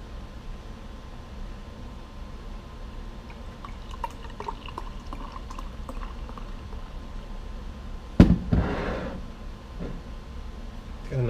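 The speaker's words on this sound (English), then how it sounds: "I'm going to pour some into this cup." Barrel aged malt liquor is poured into a cup, a soft liquid trickle and fizzing bubbles over a low background hiss, with a brief louder clatter near the end.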